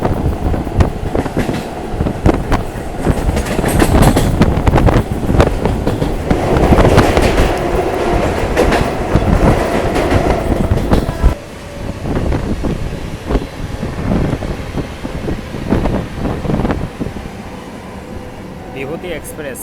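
A Bandel to Barddhaman local train runs along with loud, continuous rumble and rhythmic wheel clatter, heard from inside the carriage, easing slightly toward the end, with people talking faintly.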